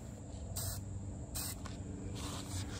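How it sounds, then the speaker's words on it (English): A spray gun sprays lacquer onto an electric guitar body in short repeated hissing bursts, about four passes, over a constant background hum. "As the spray is hitting the body, it is naturally both being diffused"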